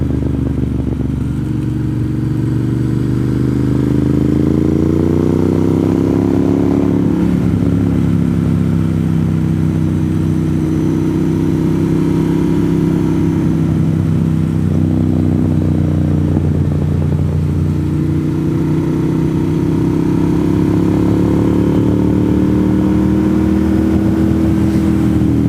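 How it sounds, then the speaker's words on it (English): Motorcycles race through a turn on a North Carolina mountain road, engines revving and rising and falling in pitch as they lean through the bend, a continuous loud mid-range drone with gear changes, no talk. "Have motorcycles racing through your turn?"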